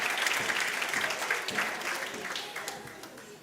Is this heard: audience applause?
yes